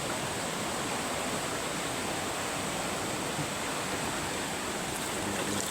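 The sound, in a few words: strong river current flowing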